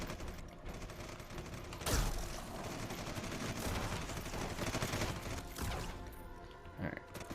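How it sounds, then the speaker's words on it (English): An automatic shotgun firing in Red Solstice 2 gives dense, continuous booming blasts with mechanical clatter, one heavier crash near the start, all fairly quiet in the mix. "Let's whip out the shotgun here. So this is our secondary weapon, our automatic shotgun."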